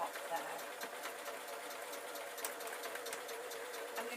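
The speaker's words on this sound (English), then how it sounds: "Now that I'm happy to sew, I'm just sewing along the top there." A sewing machine runs steadily along the top edge of a fabric tablet stand, a continuous close whirring stitch that holds evenly for the whole stretch.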